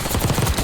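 Gunfire in the video game Call of Duty: Black Ops 6 Warzone, a loud quick burst of rapid shots under a dense, noisy mix.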